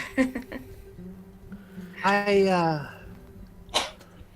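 A single sneeze bursts out amid a few brief voices, followed by a short nasal exhale; close and fairly loud against a quiet room.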